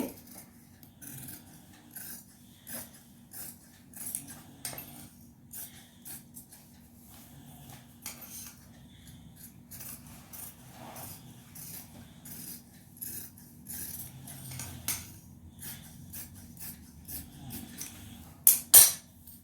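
Scissors snip through blouse fabric on a table, a long run of quiet, irregular crisp cuts and rasping strokes up close, ending with a couple of louder clicks.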